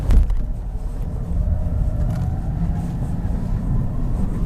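A Rivian electric vehicle drives over sand dunes in off-road drift mode, giving a continuous low rumble of tires and chassis throughout, with no clear voices.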